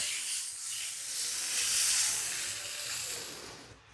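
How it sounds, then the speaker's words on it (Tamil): Beaten egg poured into a hot multimaker omelette machine, giving a steady, close sizzling hiss that swells and eases over a few seconds with no talking. "ஸோ பாருங்கள், எக்கு ஊற்றுறேன்"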